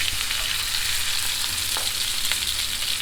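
Masala lamb chops sizzle and fry steadily in a pan, a continuous close hiss of hot oil with faint crackles running through the whole stretch.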